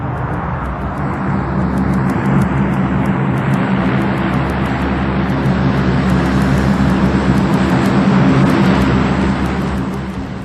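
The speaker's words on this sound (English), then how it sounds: "The bulk of a Hercules brought to a halt in about 750 meters, and the pilot wasn't trying too hard." Hercules transport aircraft touching down in a tactical landing and braking hard with reverse propeller thrust, a loud sustained roar of turboprop engines that swells and holds steady for about ten seconds with no talk.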